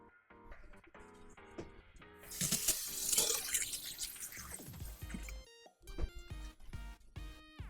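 Rice is rinsed under a running kitchen tap, with water gushing into the sink. The flow is quiet, swelling in the middle and then trailing off, with small clinks and knocks of the bowl around it.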